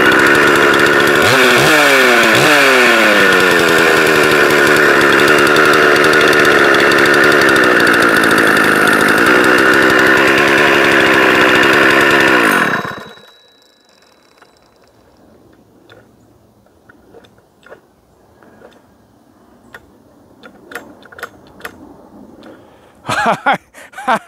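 A chainsaw runs loud and close for about thirteen seconds, revving high and easing back, then cuts off abruptly, leaving quiet with scattered small clicks and knocks.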